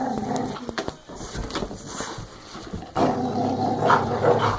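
A Belgian Malinois growls low and rumbling at close range, with sharp bursts of barking and snarling mixed in, the intensity swelling toward the end.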